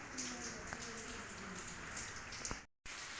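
Morning rain falling outside a house after a night of continuous rain, a steady close patter of drops on surfaces that briefly cuts out near the end before resuming.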